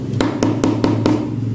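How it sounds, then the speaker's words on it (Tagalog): A heavy steel-handled hammer used for watchmaking, hung on a necklace beside a spoon and fork, knocks five sharp, evenly spaced taps over a steady low hum, close and fairly loud. "Dagdagan pa natin ng martilyo."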